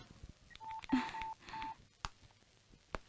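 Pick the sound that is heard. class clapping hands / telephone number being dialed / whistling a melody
telephone number being dialed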